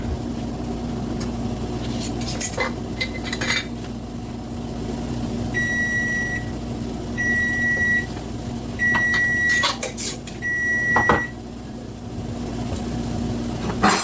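A kitchen timer set for cooking eggs beeps four times at even intervals. Each beep is a long, bright electronic tone heard over steady kitchen background noise.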